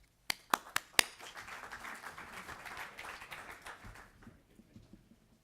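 A few sharp, separate claps open a brief, faint patter of applause from a congress audience welcoming a speaker, dying away after about four seconds.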